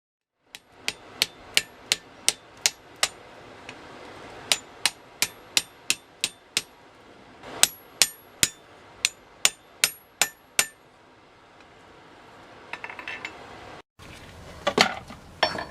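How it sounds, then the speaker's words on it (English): Mild steel flat bar being hammered round: sharp ringing metal blows land in quick regular bursts with brief pauses, closing with a cluster of scattered clanks and scraping. "Starting with a large piece of mild steel flat bar, I hammered it round"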